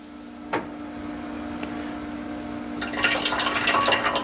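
Pre-melted butter is poured into a bread maker pan, giving a faint click, then a soft liquid pour and trickle that grows in the last second or so, close and quiet.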